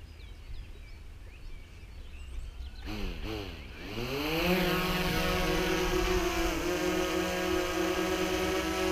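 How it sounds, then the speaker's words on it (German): DJI drone motors spinning up for an automatic takeoff, a rising propeller whine that climbs in pitch and settles into a loud steady buzz close by. "Ich werde jetzt den DJI mal automatisch starten lassen."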